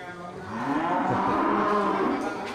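A male Bali bull moos once, long and drawn out, rising and falling in pitch across a couple of seconds, loud and near against a faint background murmur.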